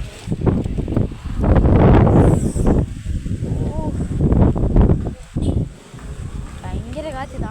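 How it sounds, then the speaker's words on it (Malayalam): Strong wind buffets the microphone in loud, rushing gusts that surge and ease, while a person speaks over the roar. "ഭയങ്കര കാറ്റ് തണുക്കുന്നുണ്ടോ?"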